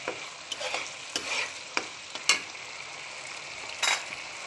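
A spoon scrapes and stirs quail egg korma in a pan over a low simmering sizzle, with sharp clinks and scrapes landing at irregular intervals close by.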